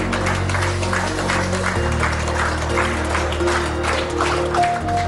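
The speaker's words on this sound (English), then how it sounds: "Thundering applause by the hospital staff for India's youngest COVID-19 survivor." Hospital staff at Mumbai's Hiranandani Hospital applaud steadily for a recovered newborn COVID-19 survivor, a continuous dense patter of many hands clapping, loud and sustained throughout.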